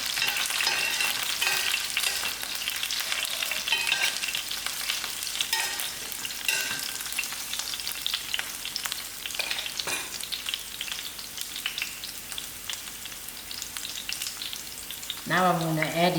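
Green chilies fry in a hot pan for brinjal chutney, giving a steady crackling sizzle with occasional stirring scrapes, close and continuous, with a brief clatter near the end.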